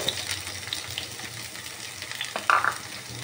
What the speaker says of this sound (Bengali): এখন প্রথমত আমি তেল দিয়েছি, এখন আমি পেঁয়াজ কুচিগুলো দিয়ে দিব।